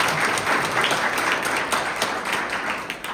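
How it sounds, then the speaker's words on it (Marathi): Audience at a felicitation ceremony for newly elected corporators breaks into steady applause, a dense continuous wash of many hands clapping fairly loudly for the whole stretch, with no talk over it. "ते लातूरचे स्वामी सुद्धा महानगरपालिकेला निवडून आले, त्यांच्यासाठी एकदा जोरदार टाळ्या वाजवा."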